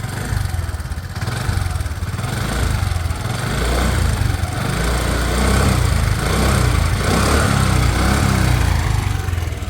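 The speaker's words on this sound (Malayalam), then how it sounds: "ഇനി വേണമെങ്കിൽ നമ്മൾ സാധാരണ രീതിയിൽ റൈസ് ചെയ്ത് നോക്കാം" A motorcycle engine, ridden by its owner, runs and is revved at close range, holding a steady rough mid-pitched roar that swells after the first second and stays loud throughout.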